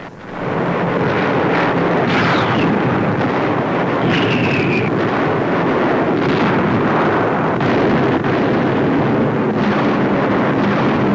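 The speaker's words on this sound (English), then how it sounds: "North of Rome, bombs hit 2 important bridges." Allied bombs hit two bridges north of Rome in a 1944 WWII newsreel, heard as a continuous loud roaring rumble of blasts with a gritty, lo-fi wash and no voices.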